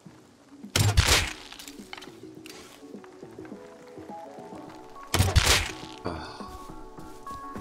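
Two sharp, loud M92 pistol gunshots ring out in the Rust video game, several seconds apart, each a close crack with a brief ringing tail, set against ambient game sounds and a short grunt.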